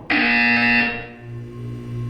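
A loud electronic buzzer from the video game Portal 2 blares for under a second, then fades into a lingering hum with low background tone.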